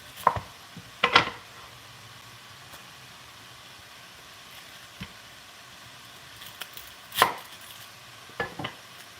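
A kitchen knife chops carrots on a cutting board in a few sharp, close knocks, some in quick pairs, separated by quiet stretches with faint background hum.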